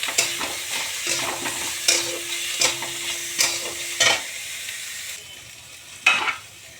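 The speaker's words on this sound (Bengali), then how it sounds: "এবার দিয়ে দেবো চিকেনগুলো।" Chicken pieces frying in a pan, loud sizzling with a run of rhythmic stirring scrapes every second or so, then fading to a softer sizzle before one last sharp stir.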